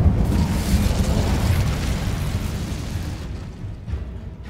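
Incendio fire spell cast in the Hogwarts Legacy video game: a loud, roaring burst of flame that rumbles heavily and then tapers into a fading crackle.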